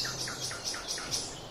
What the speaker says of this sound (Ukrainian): Там пташки співають так, що мене перебивають